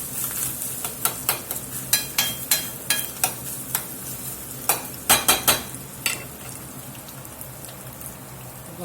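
Onions and ground meat fry in a pan with a low steady sizzle, punctuated by a series of sharp spatula taps and scrapes against the pan at irregular intervals, close and moderately loud.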